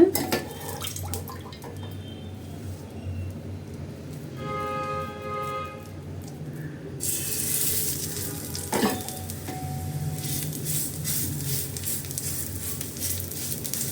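Steady sizzling of a coconut tapioca roti frying on a hot griddle over medium flame, with occasional light scraping and clinking of utensils nearby.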